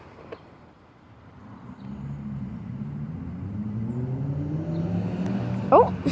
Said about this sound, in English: I can hear cars coming.